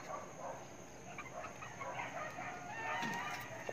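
Chickens on a backyard farm cluck and fuss in short, uneven bursts at moderate distance over a steady ambient hiss, with a brief crowing-like call near the end.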